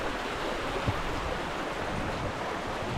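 Hot spring stream water flowing steadily, a continuous broadband rush with no talk, close and even throughout.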